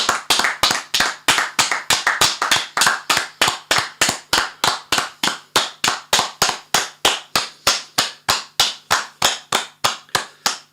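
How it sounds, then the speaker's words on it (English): Rhythmic stadium crowd applause at a Liverpool versus Manchester United match, sharp unified claps repeating at a steady, even pulse of roughly three per second for the whole stretch, loud and with no talk. "They're doing the applause."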